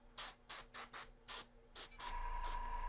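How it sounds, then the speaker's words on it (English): An airbrush sprays paint in short controlled spurts: about seven quick, evenly spaced hissing bursts, then a longer continuous hiss, close and fairly quiet. "I tend to use short controlled spurts, and that helps for not only spraying precisely"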